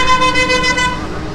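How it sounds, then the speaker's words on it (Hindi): A car horn blares loudly and close in congested street traffic in Sindh, Pakistan, one sustained honk that fades out toward the end over a busy road. "खामखाई जा रहा है और खामखाई हॉर्न बजा रहा है"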